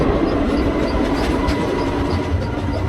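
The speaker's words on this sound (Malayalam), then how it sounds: "ദേ ട്രെയിൻ പ്ലാറ്റ്ഫോമിലേക്ക് എൻ്റർ ചെയ്തിട്ടുണ്ട്" The Sabari Express, hauling ICF coaches, rolls into platform 4 at Palakkad Junction with a loud, continuous, broadband rumble of wheels and carriages, steady and close throughout.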